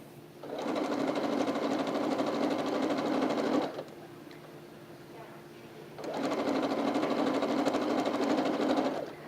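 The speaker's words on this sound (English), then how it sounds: "let's go ahead and sew those with our scant 1/4 inch seam" A sewing machine stitching a scant quarter-inch seam runs in two steady bursts of rapid whirring, with a short pause between them. The sound is close and fairly quiet.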